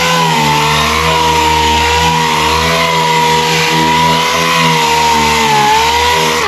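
A sanding disc on a rotary tool wet-sands boat gelcoat, producing a loud, steady motor whine with a strong tonal drone that holds evenly throughout, close up and without speech.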